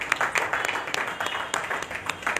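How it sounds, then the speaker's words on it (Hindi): Scattered applause at an annual literary society's stage celebration, individual claps popping out irregularly from a modest audience rather than a dense roar, with no one speaking over it. "आप तालियां बजाते रहें, उससे सम्मान और अच्छा लगता है"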